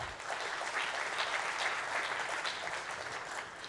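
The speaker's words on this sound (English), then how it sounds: "So a big round of applause there." Audience at a medical innovation award ceremony applauding, a steady wash of many hands clapping, moderately distant and continuous throughout with no voices over it.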